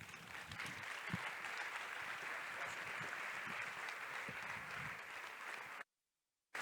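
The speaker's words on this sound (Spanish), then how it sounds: "Demos un gran aplauso, por favor, a Enrique Berrueta" An audience applauds after a talk at a learning bootcamp, a sustained dense clapping from many hands that cuts off abruptly near the end.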